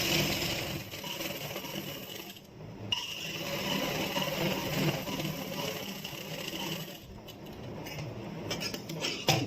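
A sewing machine stitching a child's kurta, a continuous close loud whirring hum that runs almost without a break, briefly pausing twice, with no talking.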